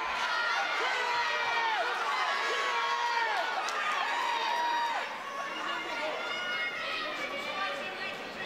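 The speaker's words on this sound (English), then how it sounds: "The crowd rooting for Rich." Arena crowd at an AFK Superleague MMA bout noisily rooting for wrestler Rich Taylor, a steady roar of cheers and shouts throughout, with a commentator's voice talking over it.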